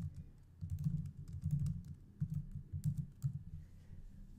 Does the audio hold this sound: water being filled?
no